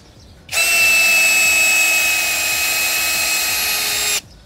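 A WORX WU369 60 Nm cordless drill runs at speed setting 1, giving a loud, steady, high whine that starts abruptly, holds for about three and a half seconds, then cuts off sharply.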